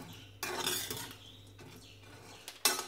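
Urad dal stirred in a pan with a spoon until brown: close scraping sweeps with clinks of metal, one long stroke early, softer rustling in between, then a sharp final scrape.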